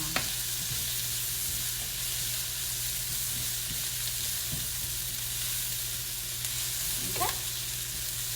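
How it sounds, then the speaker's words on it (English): Pepper steak frying in a pan, a steady broadband sizzle that stays loud and close throughout, with a few soft stirring scrapes near the start and a brief louder scrape toward the end. "Just gonna let these cook on down, y'all, for just a few minutes."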